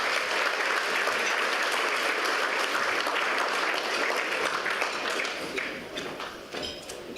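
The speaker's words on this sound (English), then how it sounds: "So if we can give Jodie and Shayla a round of applause" An awards-night crowd claps loudly and continuously, a dense wash of hand claps that holds steady for several seconds before thinning out toward the end.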